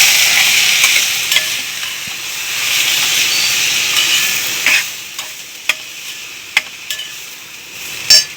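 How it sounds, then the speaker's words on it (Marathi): Barnyard millet (varai) is stirred into hot masala in a pan, sizzling and hissing up close at first, then fading to quieter frying with sharp spoon scrapes and clinks against the pan. "त्यात आपण वरई घालून घेऊ।"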